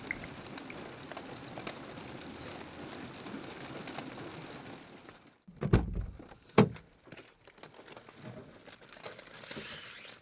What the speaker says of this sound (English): All you can hear is the rain.